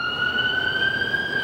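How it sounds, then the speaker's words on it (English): A steady siren from a passing ambulance holds clear, unwavering tones, loud and close, with faint background hum and no talking. "Fucking ambulance."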